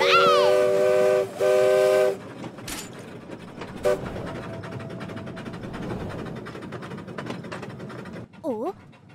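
A cartoon train departs with a bright two-toned whistle, then chugs and rumbles steadily away, closing on a quick bouncy jingle, while a child-like voice speaks over the opening whistle.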